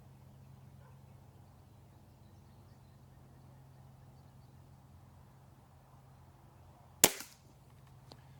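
A single sharp shot from a Remington Tyrant air rifle firing AEA pellets, loud and close, cracking out of a quiet, humming background near the end.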